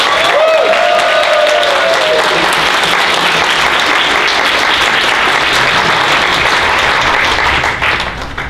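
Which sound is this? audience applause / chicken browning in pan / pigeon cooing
audience applause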